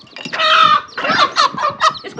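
A hen clucks with her chicks, loud and close, in a series of rapid clucks and short squawking calls in uneven bursts, with no talk.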